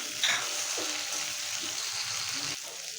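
Cumin and black pepper paste hits a hot pan and fries with a steady sizzle, a sharp burst as it lands, then soft stirring scrapes, heard up close without speech.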